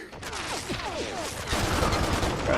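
Sustained automatic weapon fire from a heavy machine gun in the action video game Stranglehold, a dense continuous rattle with echoing shots, growing heavier midway, and no talk over it.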